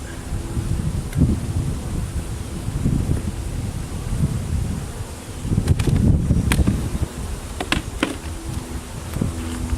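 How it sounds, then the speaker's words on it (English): Gusty wind during an outdoor beehive inspection buffets the microphone in low, rumbling surges that rise and fall, with faint rustling and a few brief knocks in between. "It's a little breezy today. Not as windy as last time, but windy enough."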